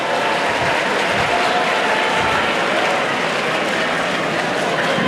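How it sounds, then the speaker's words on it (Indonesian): Sustained applause for pesantren students, a dense, steady wash of many hands clapping at a constant loud level throughout, with no pauses. "Tepuk tangan untuk semua pesantren, luar biasa."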